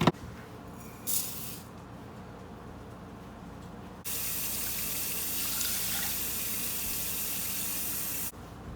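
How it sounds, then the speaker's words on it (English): Butter-flavor cooking spray hisses into a pot for rice. There is a short burst first, then a longer steady spray of several seconds, close and fairly loud. "I'm just going to spray a little bit of that in there just because you don't want your rice to stick."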